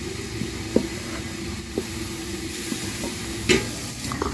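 Puff puff dough ingredients of flour, salt, sugar and baking powder being mixed in a bowl, a soft continuous stirring rustle with a few light clicks of the utensil against the bowl, close and fairly quiet.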